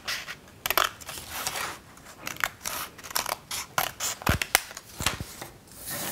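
Scissors cut out a paper monster shape, a series of crisp snips and rustling paper slides in irregular bursts, close and quiet with no voices.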